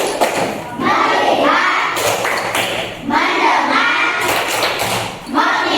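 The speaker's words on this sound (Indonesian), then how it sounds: "Coba tepuk konsentrasi." A class claps the rhythmic 'tepuk konsentrasi' concentration clap, with loud, close bursts of group clapping and thumps set between children and a teacher chanting the words together.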